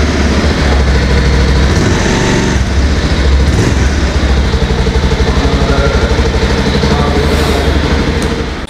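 A 2022 Bajaj Pulsar 220F motorcycle engine runs steadily at close range, a dense continuous idle rumble with no talk, holding for most of the nine seconds before easing slightly at the end.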